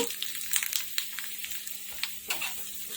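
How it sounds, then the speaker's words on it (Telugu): Dried red chillies, seven or eight torn pieces, sizzling in hot oil for a mango pickle, with a soft steady frying crackle, small stirring clatters and light pops close by. "నూనె కాగిందండి దీనిలో ఏడెనిమిది ఎండుమిరపకాయలు తుంపి వేస్తున్నాను"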